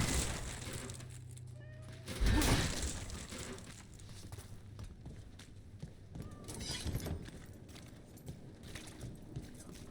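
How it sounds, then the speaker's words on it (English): Cats meow a few times in Dragon Age: The Veilguard, short mid-level calls mixed with footsteps and game ambience, with a louder thump-like burst partway through. "The cats love me."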